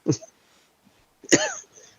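Two short, dry coughs, one near the start and another about a second later, with quiet pauses around them.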